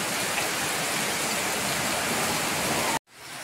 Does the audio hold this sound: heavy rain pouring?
yes